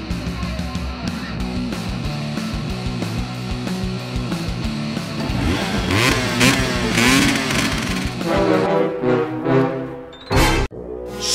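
A motorcycle engine revs up and down in a game scene with a police chase, the throaty mid-range roar rising in bursts and falling away, close and loud with no talk over it.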